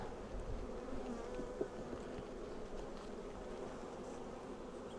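A low, steady hum of many honey bees buzzing close by in an open hive, droning continuously at a soft level.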